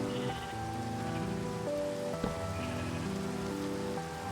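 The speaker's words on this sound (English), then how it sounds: "Oh, is it raining? It is raining." Steady rain falls in a farming-and-building video game, a soft constant patter under a layer of game music with sustained tones, fairly quiet and even throughout.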